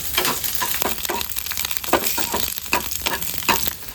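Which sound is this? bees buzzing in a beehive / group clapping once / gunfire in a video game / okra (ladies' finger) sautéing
okra (ladies' finger) sautéing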